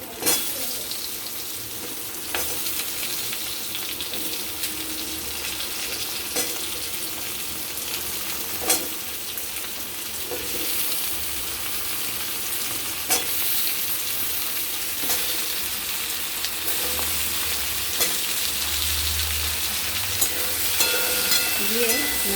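Cut sweet pumpkin pieces frying in a pan with fish head and potato, a constant loud sizzle broken by the clatter of a utensil stirring against the pan, close up, over about twenty seconds.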